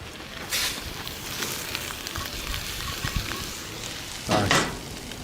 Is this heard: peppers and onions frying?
yes